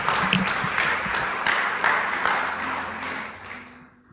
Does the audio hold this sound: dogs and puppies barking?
no